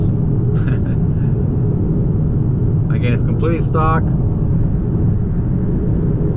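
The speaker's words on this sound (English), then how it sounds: "It's quiet, it's smooth. You can hear the turbo sometimes." A 2022 Honda Accord Sport with a stock 2.0-litre turbo engine and 10-speed gearbox produces a steady, low cabin drone while driving, with someone talking over the engine and road noise.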